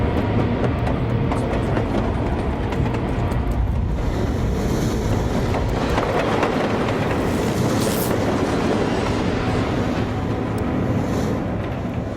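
A passenger train running steadily on rails, with a loud continuous rumble and a faint rhythmic clickety-clack that holds for the whole stretch, with no talk over it.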